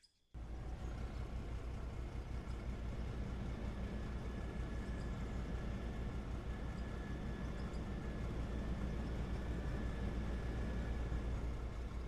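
A heavy haul truck engine in the mining game Out of Ore starts up and then drones steadily and low for the rest of the stretch, a constant rumbling hum with no talk.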